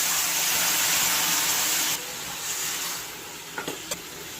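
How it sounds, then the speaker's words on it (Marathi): Water splashed into a hot kadai of frying stuffed brinjals bursts into a loud hissing sizzle that drops abruptly after two seconds to a softer simmer, followed by a couple of light clinks. "थोडं पाणी घालूया।"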